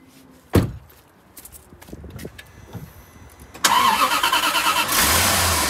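A Bentley Arnage with the 6.75-litre engine, a non-runner being brought back to life, cranks and fires up after a few quiet knocks and clicks, then settles into a steady, loud, close idle.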